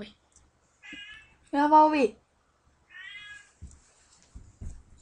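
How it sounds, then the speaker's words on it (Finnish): A cat meows loudly and close by, several distinct calls with one long drawn-out yowl, between quiet pauses and some faint background movement. "Sori vaan, katti se huutaa tossa."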